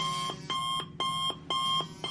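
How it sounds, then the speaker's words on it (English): A phone alarm rings in a steady repeating pattern, four bright electronic beep bursts with short gaps between them, loud and close, with no voices. "slammed awake by his phone's alarm."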